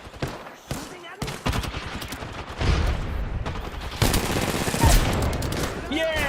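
Rapid bursts of gunfire from an Apex Legends match crackle in dense, overlapping volleys, loud and close, with heavier booming shots toward the end, while players talk over the shooting.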